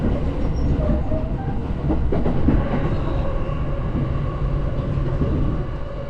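Tokyo suburban commuter train running above ground, a continuous close rumble of wheels on rails with clickety-clack rhythm and occasional faint squeals, heard from inside the carriage.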